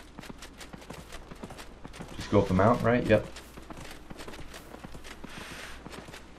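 Horse hooves clopping along a mountain path in the video game Dragon Age: Inquisition, a steady walking rhythm with a louder burst midway, heard beneath people talking.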